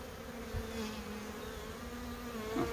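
Honeybees buzz around an open hive, a soft, steady hum with individual bees droning close by and passing, faint and continuous with no talk.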